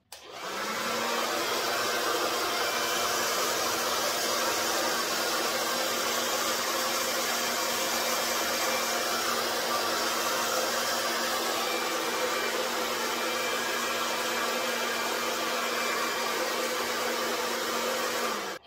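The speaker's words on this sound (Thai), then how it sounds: "เวลาที่คุณใช้หัวไดประผมแบบนี้มันจะไม่ปลิว" Hair dryer with a diffuser drying curly hair, running at medium heat: a steady, loud, even whoosh of blowing air with a low hum, unbroken for nearly twenty seconds.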